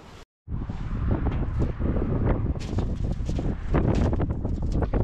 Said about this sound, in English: Ooh, it's getting windy